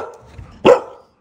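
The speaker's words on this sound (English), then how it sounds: "Oh, it's the smallest and loudest dog." A very small dog gives a single sharp, loud bark indoors, following a stretch of quiet murmuring before it.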